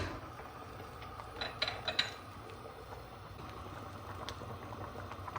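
Dinner sauce simmering and cooking down in a pot, a quiet steady bubbling hiss with a few soft pops and clicks, heard alone without talk.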